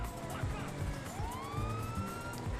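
A police car siren wails in GTA Online during a chase, its rising and falling tone sweeping over engine rumble and game noise.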